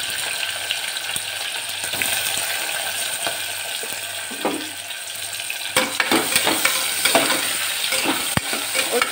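Onions frying with whole spices and chilies in a pan for mutton biryani, a steady loud sizzle with scattered clinks and stirring scrapes, close up and without speech.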